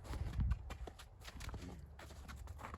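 A donkey being trained to lead takes a few slow steps, hooves thudding softly in an uneven rhythm, with a heavier footfall early and faint rustling around it, nearby and fairly quiet.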